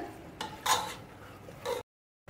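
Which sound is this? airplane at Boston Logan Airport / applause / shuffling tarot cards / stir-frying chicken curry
stir-frying chicken curry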